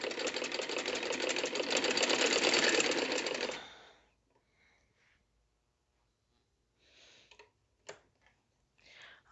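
A sewing machine whirs in a fast, continuous burst for about four seconds while stitching the frill of a layered kurti, then stops, leaving quiet with a few faint clicks and handling sounds.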